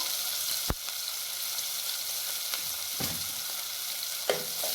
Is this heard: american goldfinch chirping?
no